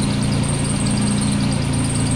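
A 1987 Nissan 300ZX Z31 engine idles steadily on old gas after sitting three years, a loud continuous low rumble with a constant mechanical hum and no pauses.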